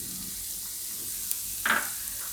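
Chilies frying in hot oil with garlic, a steady close hiss of sizzling with a brief louder crackle and stir near the end.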